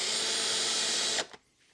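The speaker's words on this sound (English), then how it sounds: "Regular drill noises." A cordless drill runs on its regular drill setting, giving a steady, loud whirring drone for just over a second before it suddenly cuts off, leaving near silence.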